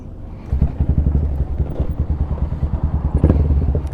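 A Honda Grom motorcycle engine catches after a slow start in second gear and settles into a loud, close, chugging idle with rapid, slightly uneven pulses.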